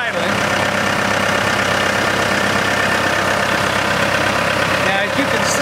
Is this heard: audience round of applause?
no